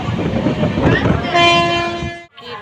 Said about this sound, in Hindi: ट्रेन रुक गया, स्टेशन आ गया है सॉरी